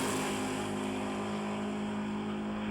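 Drag race between a 1973 Dodge Dart with Chevrolet power and a 1989 Lincoln Mark 7: a loud, sustained engine roar with steady harmonic tones holds evenly throughout.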